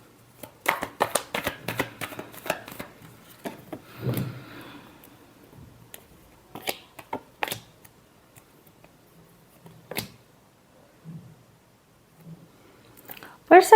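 Tarot cards being shuffled by hand in quick riffling bursts, followed by scattered taps and soft handling sounds, with a voice talking in between.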